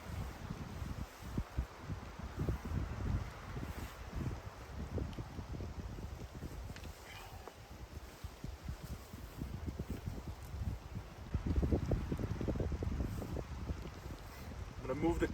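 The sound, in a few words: strong wind at campsite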